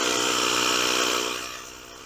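A Ryobi 18V One+ automatic tire inflator runs with a steady, buzzing motor drone close by, loud at first and then fading somewhat toward the end of the short stretch.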